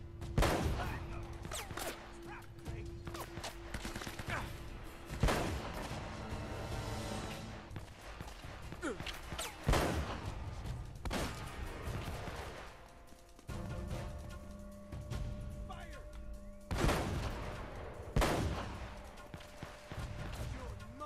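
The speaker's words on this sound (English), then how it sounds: "she's shooting over there" Gunfire in Uncharted: Drake's Fortune, scattered loud shots and bursts over about twenty seconds amid game effects, with a player talking between them.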